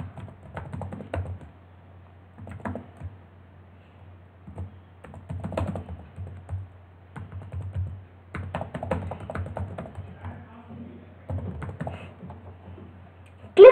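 Someone types an email address on a computer keyboard, producing close, quiet clusters of key clicks in short bursts separated by brief pauses.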